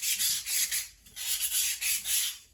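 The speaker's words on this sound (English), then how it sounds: "my overall sanding with the 220" Rhythmic back-and-forth scratching of 220-grit sandpaper rubbing a ceramic bird, several quick strokes in a row, close and fairly loud.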